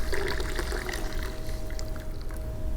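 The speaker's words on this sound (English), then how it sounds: "slowly pour from the French press into the cup" Coffee is poured slowly from a French press into a cup, a faint, steady trickle and splash lasting a few seconds under a low background hum, with no talking.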